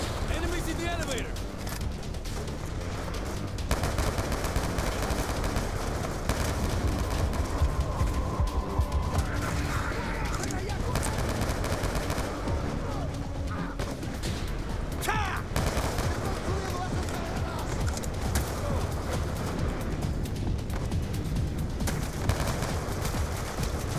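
Gunfire in Call of Duty Black Ops 2, a dense run of rapid automatic shots and bursts that continues throughout over constant battle noise, with a voice briefly heard talking.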